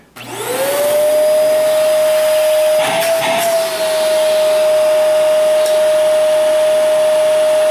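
A Shark Rotator vacuum cleaner starts up and runs at a steady, loud whine with a constant high tone, briefly wavering as airflow shifts, with no talking.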